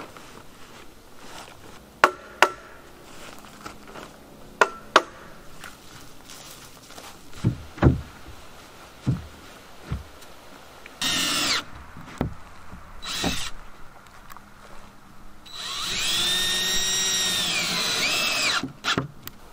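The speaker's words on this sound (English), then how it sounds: "I'm just going to be cutting off the excess." A power saw cuts excess OSB subfloor on a backyard chicken coop, with scattered sharp knocks and taps early, then several short cutting bursts and a longer, louder cut near the end, all close by.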